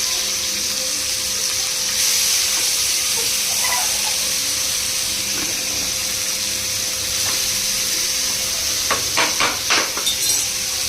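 Steady sizzling of food frying in a pan, with a few scraping stirs near the end and a continuous hiss throughout.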